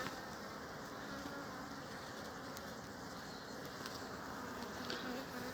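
Honeybees buzz inside an opened hive in a steady, low drone, close and continuous, with faint scattered ticks and rustles.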